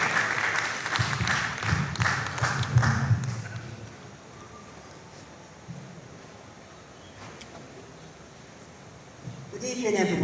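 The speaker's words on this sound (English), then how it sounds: "A round of applause for Madame Naomi as she gives us the welcoming address." An audience at a Pan-African panel event claps as the chairperson is welcomed to give an address. Applause fills the first few seconds, then fades to a quieter room before clapping rises again near the end, with voices mixed in.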